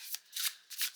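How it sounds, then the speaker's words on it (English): Oracle deck cards with thick, solid cardstock shuffled by hand, three quick papery riffling bursts close up with brief pauses between them. "This shuffles really nicely like this as well."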